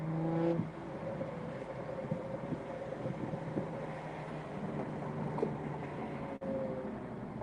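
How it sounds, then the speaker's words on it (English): Car exhaust from passing traffic, a low steady rumble with a brief rise near the start, heard outdoors with wind noise and no talking. "I wonder if that exhaust noise is fake."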